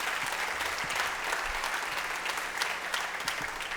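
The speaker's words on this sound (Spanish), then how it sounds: "dele un aplauso al Señor," A church congregation applauds at a Spanish-language service, a steady dense wash of clapping that sounds somewhat distant and holds evenly throughout.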